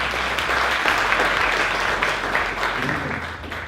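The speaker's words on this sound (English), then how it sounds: "A round of applause" At a Concert in the Dark event, an audience applauds a man coming onto the stage. The clapping is steady and fairly loud throughout, easing slightly near the end.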